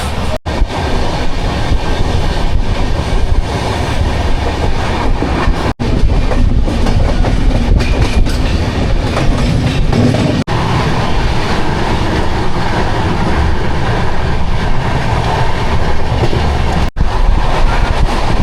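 Express train bound for Secunderabad from the Kharagpur and Balasore line, running on the rails with a loud continuous rumble, rhythmic clickety-clack of wheels and occasional sharp jolts, plus some wind buffeting on the microphone.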